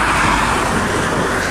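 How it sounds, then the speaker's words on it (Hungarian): Cars pass along a rural road in Hungary near the old Hanság narrow-gauge railway route, giving a steady, fairly loud broadband roar of traffic noise with no talk. "elmennek az autók"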